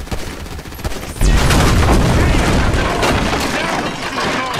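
Sustained gunfire in the video game Grand Theft Auto V: a sudden loud burst breaks into a dense, continuous barrage of shots and booms, with voices faintly underneath.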